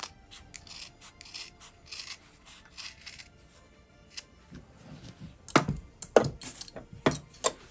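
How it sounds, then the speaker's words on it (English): Fabric corner of a sewn wallet trimmed with scissors: soft rustling and handling at first, then a cluster of sharp, close snips near the end. "I'm gonna trim this corner right here"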